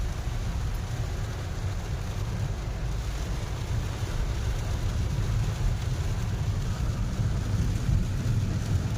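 Heavy rain during a drive along flooded roads: a continuous low roar and broadband wash of water and road noise, steady and fairly loud, with no talking.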